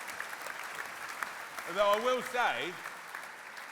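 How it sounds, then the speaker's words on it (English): Studio audience applause at a talk-show interview, a steady spread of clapping running under the clip while someone speaks briefly in the middle. "So give yourselves a round of applause."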